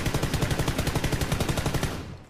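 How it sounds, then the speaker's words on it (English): Automatic gunfire in PUBG: a single long, rapid burst of evenly spaced shots, loud and close, lasting about two seconds before cutting off, with no talk over it. "Someone's shooting at us."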